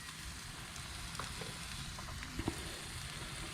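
Breakfast food, including eggs, cooks on a Blackstone griddle at a campsite, giving a steady close-up sizzling hiss with a few soft scrapes and clicks and no talking.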